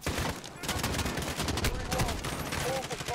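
Gunfire in Call of Duty: Modern Warfare, sniper rifle in use, heard as a loud, continuous volley of sharp overlapping shots and impacts with battle noise throughout.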